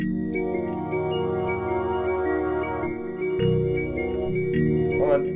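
Layered synthesizer chords with a low pulsing bass and higher sustained tones, changing every second or so, steady and full with no speech.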